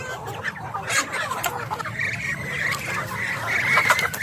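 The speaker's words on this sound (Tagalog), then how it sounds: "May native na manok," Native chickens cluck and squawk close by in a mixed farmyard flock with ducks, a busy overlapping chorus of short calls over outdoor rustling.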